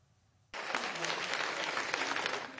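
Applause bursts out suddenly and holds steady as Rishi Sunak is welcomed at Conservative Party headquarters, a dense, sustained clapping from a crowd of supporters after a moment of near quiet.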